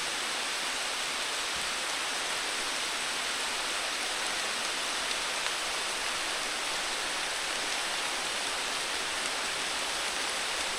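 Heavy rain pours steadily and loudly, a dense unbroken hiss of falling water with no pauses for the whole stretch.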